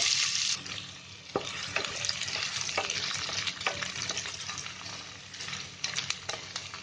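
Chopped onion frying in a pan with whole spices and cumin for tomato chicken, a continuous bright sizzle with scattered clicks and stirring scrapes, close and steady with no talking.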